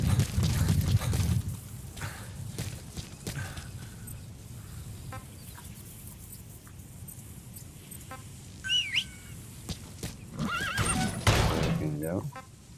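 A horse whinnies and neighs in the Metal Gear Solid V: The Phantom Pain video game, with hoof clip-clops, rooster and chicken clucks nearby, and people talking over the game sounds.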